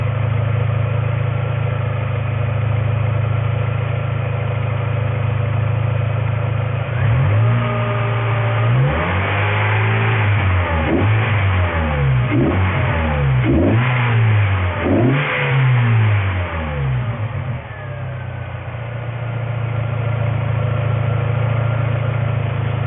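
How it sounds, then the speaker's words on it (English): A car engine idles steadily, then revs up and down several times in quick bursts before settling back to a low, even idle. "Let me go rev the engine some and see if I can get it to warm up."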